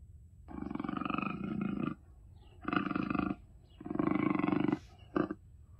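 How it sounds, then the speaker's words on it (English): A puma (cougar) call played through an Alexa smart speaker: three loud, rasping roar-like growls with short gaps between them, then a brief final grunt, with no talk over them. "Alexa, make a Puma sound."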